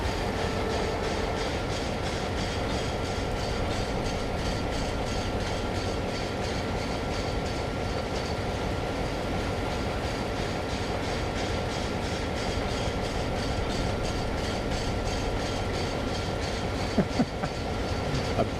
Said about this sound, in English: Sounds like one of those GYs behind me's got a flat.